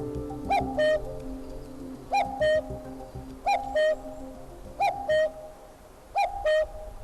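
Common cuckoo calling in a forest: a two-note cu-coo repeated five times at a steady, unhurried pace, clear and fairly near over a quiet woodland background.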